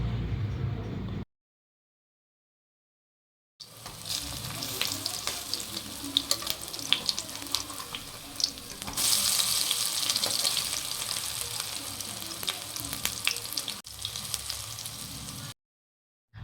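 Banana flower fritters shallow-fry in a little oil in a pan, giving a dense, continuous sizzle that starts after a brief silence and runs steadily without talk.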